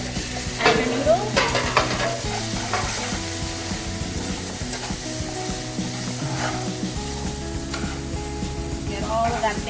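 Spaghetti carbonara noodles sizzle in a pan with bacon bits and garlic, a continuous frying hiss broken by scraping and stirring clatter close up.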